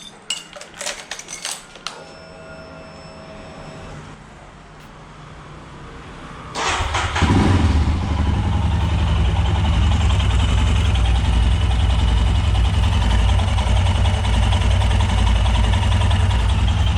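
A Royal Enfield Himalayan motorcycle with fresh engine oil, heard as clinks of tools, then a starter crank that catches at once and settles into a loud, steady, close idle that runs unbroken to the end.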